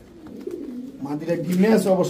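Pigeons coo softly in a loft holding fancy breeds such as Pakistani Teddy, Kamargar, Budapest and racer pigeons. Low, throaty warbling swells louder toward the end, and someone speaks over it.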